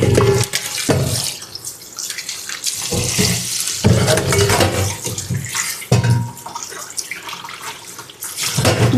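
Tap water running into a sink while tomatoes are washed, a loud close gushing stream with splashing surges as the flow is interrupted.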